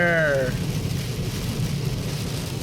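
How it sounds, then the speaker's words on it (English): Heavy rain pours onto a car in a steady, loud hiss and patter, and a brief voice is heard over the start before the downpour continues on its own. "Oh my gosh, it is pouring down the rain."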